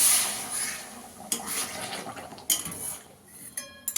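Hot water goes into a pan of spiced egg and potato curry, with a splashing, gurgling pour and several clinks of utensils against the pan, close up with no talking.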